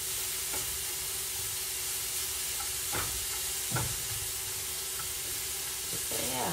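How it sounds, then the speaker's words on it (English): Onions frying in a pan for smothered steak, a steady close sizzle and hiss with a few scraping stirs of a utensil against the pan. "I'm gonna let these onions cook for a few more minutes"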